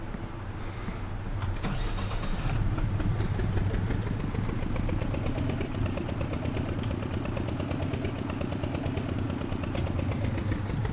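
In the farming game Professional Farmer 2014, a tractor engine idles with a steady, loud mechanical rumble and a fast chugging pulse throughout, alone without voices.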